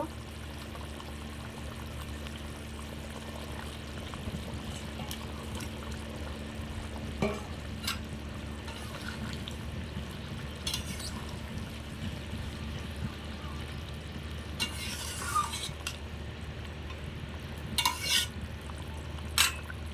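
Pieces of fried fish go into a simmering potato curry gravy, giving a low bubbling and sloshing bed broken by several sharp clinks and scrapes of a utensil against the pot, with no talk.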